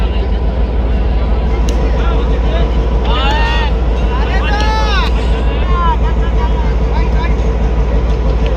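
A railway recovery machine approaches at a derailment site on a mainline bypass near Attock, its heavy low engine drone steady and loud throughout, with a crowd talking and whistling squeals rising over it.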